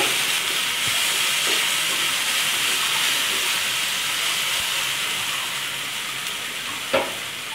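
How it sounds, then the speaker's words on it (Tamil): Ginger and garlic sauté in a hot pan with a steady, close sizzling hiss, continuous throughout with one brief clink near the end. "இஞ்சி பூண்டோட பச்சை வாசனை போகிற வரைக்கும் நம்ம கொஞ்சம் நேரம் வதக்கிக்கலாம்."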